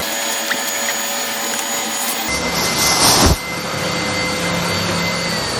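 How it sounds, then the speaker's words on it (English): A Hoover vacuum cleaner starts up partway through with a sudden rise to a loud, close, steady whine and roar, surging briefly before settling into a constant drone, with no voices. "I just wanted evidence of you using a Hoover"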